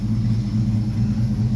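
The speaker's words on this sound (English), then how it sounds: "startup Monte Carlo" A 1971 Monte Carlo with a swapped 5.3 engine idling after startup, a loud, close, steady low rumble with a faint pulsing lope and no voices.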